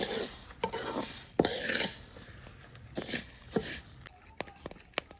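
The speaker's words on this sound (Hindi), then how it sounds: "गंदम बुनने की आवाज़ आ रही है, तड़िक तड़िक हो रहा है" Wheat grains crackle and rattle in a hot wok, with scattered sharp pops and scraping stirs, fairly quiet and close.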